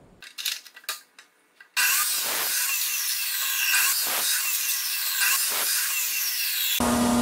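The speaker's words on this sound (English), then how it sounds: "it doesn't take much to cut it with this high-speed cutter" A high-speed cutter bites into metal for a solar panel mount, a loud sustained grinding screech after a few short revving bursts, the pitch wavering as the blade works through the piece.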